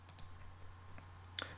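A computer mouse clicks a few times, faint and close, with single sharp taps over a steady low electrical hum.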